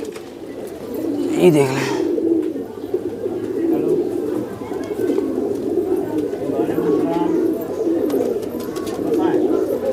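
Pigeons coo steadily in a low, continuous murmur at a loft where a flock is being flown, with one sharper bird call near the start and someone talking over the cooing.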